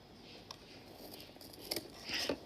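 Cardboard for a craft gingerbread house is cut in a few short, scratchy snips and slices, quiet and close, with a slightly louder burst near the end and no talk.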